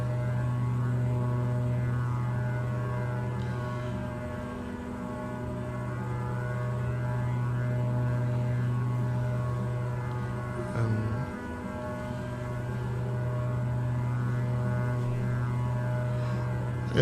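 Embraer 110 Bandeirante turboprop engines droning steadily from an outside view in Microsoft Flight Simulator, a continuous loud hum with a brief dip around the middle, no talk.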